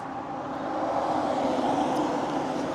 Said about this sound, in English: but there's a few cars going past.